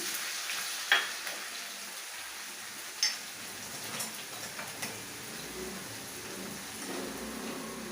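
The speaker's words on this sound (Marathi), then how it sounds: "आता हे तेल तापलेलं आहे, त्याच्यात मी हा टेचलेला लसूण आहे तो टाकणार आहे" Soft, steady crackle of crushed garlic frying in hot oil in a kadhai with cumin, with a few sharp clinks and taps of a utensil against the pan.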